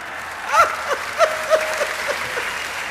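An audience claps for a comic poet at a Hindi comedy poetry gathering. The applause is moderate and ragged, mixed with scattered laughter and voices, with louder bursts rising and falling over a few seconds.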